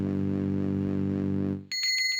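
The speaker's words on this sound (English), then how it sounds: "It's time to ring the bell to make an accusation." A bell rings to call an accusation in the Clue 1996 video game: a sustained humming tone fades out, then a bright bell rings in a few quick, closely spaced strokes.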